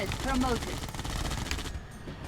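Rapid bursts of gunfire rattle in a video game battle against vehicles, dense and overlapping, with someone talking over the shooting.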